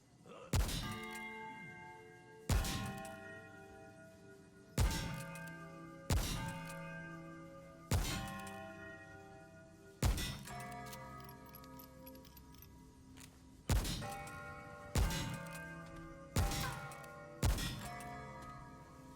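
Struck bells in a puzzle in Remnant: From The Ashes ring out one at a time, ten clear metallic strikes each leaving a long ringing decay, spaced roughly every two seconds, close and alone.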